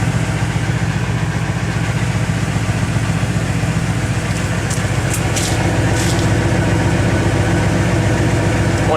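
A truck engine idles close up after a cold start with a loud, deep, even rumble and constant rhythmic chugging, unchanging for the whole stretch.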